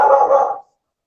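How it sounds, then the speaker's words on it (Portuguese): A dog lets out a single short, loud bark or yelp close by during a Portuguese-language interview, then it cuts to silence with no talking heard. "Para, cachorro."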